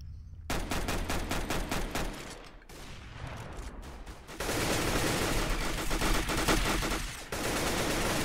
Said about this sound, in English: some shots going on right now